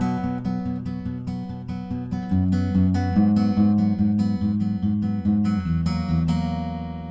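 Acoustic guitar fingerpicking the verse riff of a song at full speed, a steady stream of bright plucked notes over shifting bass notes, close and clear with no voices.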